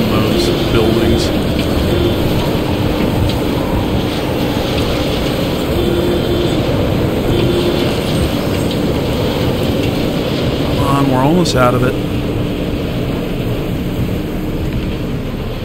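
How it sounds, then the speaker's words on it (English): Rain and thunder of a storm in a video game, a steady dense hiss of rainfall with low rumbling throughout, while a person talks over it. "There we go, out of the storm."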